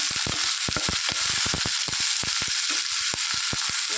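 Green chillies and curry leaves frying in oil in a pan, stirred together for a Kerala carrot mezhukkupuratty, give a steady close sizzle with sharp crackling pops scattered throughout.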